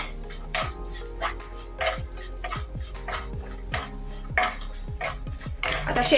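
A spoon clinks and scrapes against a pan as turmeric, coriander powder and red chilli are stirred in hot oil for spiced puffed-rice bhadang. The knocks are short and irregular, and a sharper scrape comes near the end.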